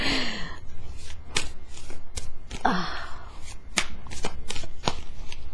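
A tarot card deck being shuffled by hand, a run of crisp riffling bursts and sharp card snaps close to the microphone, with a brief gasp-like breath near the start.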